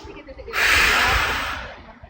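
A single deep inhale through the nose during a Pilates exercise, a close, breathy rush lasting over a second before easing off.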